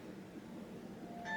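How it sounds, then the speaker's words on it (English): A phone gives a short electronic beep tone at the very end, rising briefly over faint room noise in a home kitchen. "And there goes my phone."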